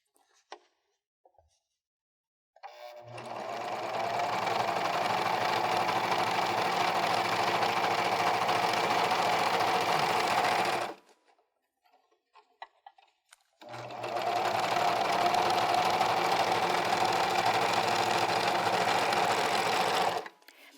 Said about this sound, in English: just run a piece of fabric through the serger